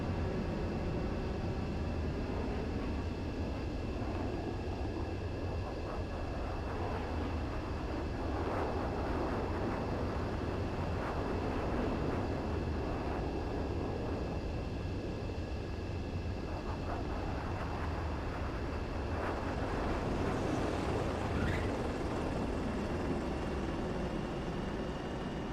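Fighter jet landing on a runway in Ace Combat 7, a continuous loud engine roar and rumble throughout, with a rising whine and rushing wind toward the end.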